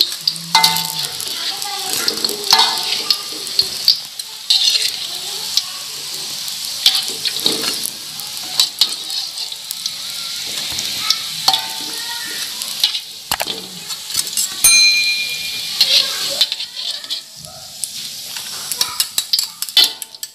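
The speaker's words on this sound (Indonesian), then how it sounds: "Kita goreng yang ukurannya agak besar." Potato and carrot pastel pastries frying in hot oil, a steady bubbling sizzle throughout with occasional stirring clinks of a utensil against the pan, fairly close and continuous with no talk.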